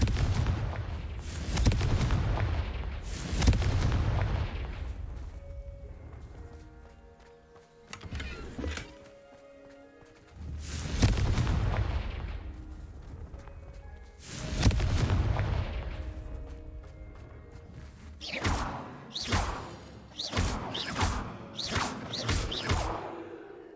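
Confringo blasting spell from Hogwarts Legacy, several loud booming explosions with whooshing tails spread across the stretch, the later ones coming as a quick cluster of sharp cracks.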